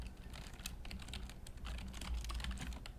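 Computer keyboard typing of a web address into JavaScript code, a steady stream of quick, close keystroke clicks with a few louder taps, no voices.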